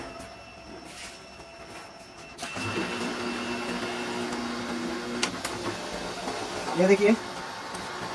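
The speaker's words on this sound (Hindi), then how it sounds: "अभी मैं इसको डालकर फिर से कॉपी करूँगा" A Canon ImageClass MF-241d printer starts up and runs through a copy and print job, a steady mechanical whir and rumble that starts a few seconds in. Someone speaks briefly over it.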